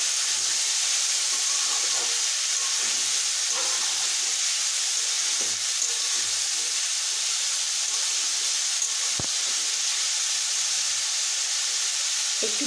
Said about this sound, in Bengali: একটু ভালোভাবে ভেজে নেব।